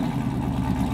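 A manual transmission car's engine cold-starting by remote start runs as a steady, close, mid-pitched idle rumble with a constant loud level and no speech.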